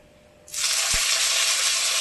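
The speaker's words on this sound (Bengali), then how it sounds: "টমেটোটা ভাজা ভাজা করে নেব।" Tomato dropped into hot oil in a pan for a pabda fish curry tempered with nigella seeds, bursting into a sudden loud, close hissing sizzle that holds steady, with no one talking.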